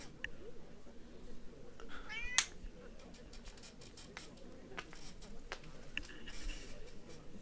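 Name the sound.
cat meowing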